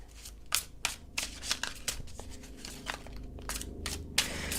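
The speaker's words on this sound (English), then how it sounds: "I can't even shuffle them" Tarot cards shuffled by hand in a steady run of crisp riffling bursts and papery slaps, close and fairly loud, with no voices.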